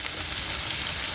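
Papaya curry with panch phoron, ginger and chili sizzles steadily in a pan, a soft continuous frying hiss with no voices over it.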